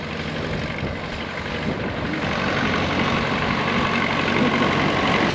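A tractor towing a small trailer on a road in Argentina draws closer, its low engine rumble growing steadily louder over wind noise, with no talk.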